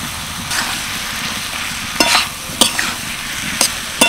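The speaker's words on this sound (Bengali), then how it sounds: "এবার দিয়ে দিচ্ছি কেটে রাখা পেঁয়াজ, আর দিয়ে দিচ্ছি কেটে রাখা উচ্ছে।" Chopped onion and bitter gourd fry in a dry spice paste with chili powder, a constant close sizzle punctuated by a handful of sharp spatula clicks and scrapes against the pan.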